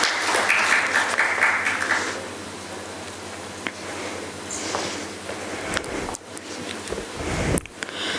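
Audience applause welcoming a speaker onto the stage at a physiology conference, fairly loud clapping at first that thins and fades, followed by scattered handling noises and thumps.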